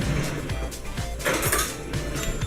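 Metal and dishware clatter near a stovetop while making quesadillas, a spatula being picked out among kitchen utensils with several short clinks and knocks over a steady background hiss.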